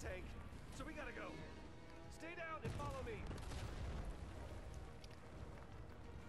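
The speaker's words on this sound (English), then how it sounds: "Incoming fire" Gunfire during a Fortnite event, a dense continuous rattle of shots running under voices chattering and calling out across the whole stretch.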